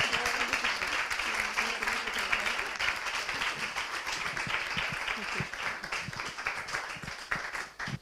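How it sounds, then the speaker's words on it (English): Conference audience applauding a speaker at a session on motherhood and politics, a dense, steady wash of many hands clapping throughout, fairly close and filling the room, tapering slightly at the end. "I think let's give her a big round of applause"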